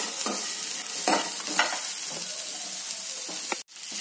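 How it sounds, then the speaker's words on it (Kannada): Garlic cloves frying in oil with onion in a mud pot, a steady close sizzle broken by stirring scrapes and a sharp knock near the end, no speech. "ಈಗ ಇದಕ್ಕೆ ಒಂದು 10 ಎಸಳು ಬೆಳ್ಳುಳ್ಳಿ, ಇದು ಕೂಡ ಇದರಲ್ಲಿ ಚೆನ್ನಾಗಿ ಫ್ರೈ ಆಗಬೇಕು."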